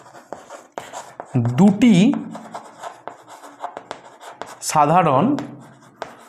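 Writing on a board during a class 5 math lesson, short scratchy strokes and taps running under a teacher's speech, close and intermittent.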